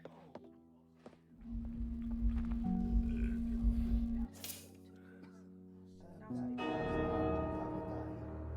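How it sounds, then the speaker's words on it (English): Church bells ring in the video game Dance of Death, heavy tolls sounding twice in long, droning swells with a lull between them, fairly near, mixed with game ambience. "Been on my back in here enough to know that this is the bells."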